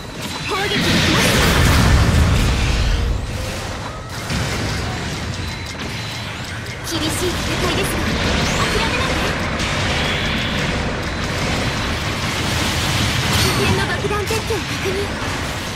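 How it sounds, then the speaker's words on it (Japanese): Artillery shells burst in a Gundam Battle Operation 2 match, heavy booms and crashes landing in quick succession over dense game noise, loudest near the start and rumbling on throughout. "砲撃が来ました。"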